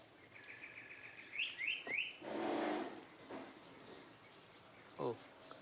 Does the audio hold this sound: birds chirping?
yes